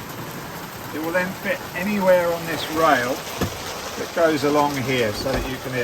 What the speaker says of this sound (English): Sorry about the noise of the rain at the moment.